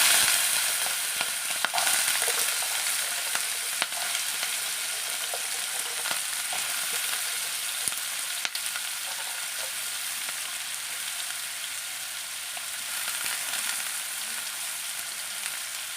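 Small potatoes dropped into hot oil with cumin seeds in a pan, a loud continuous close sizzle with occasional light crackles and clicks, steady throughout.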